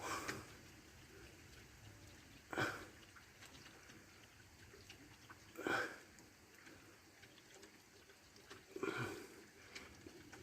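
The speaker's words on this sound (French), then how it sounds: "Grosse goutte qui tombe" Large raindrops land one at a time on a quiet night before a thunderstorm, three distinct close splats spaced a few seconds apart over faint background hiss.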